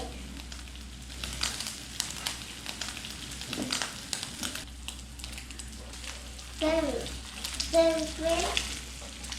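Eggs sizzle in a hot pan alongside bacon, a steady crackling fry with bursts of stirring and scraping, while a voice chimes in briefly toward the end.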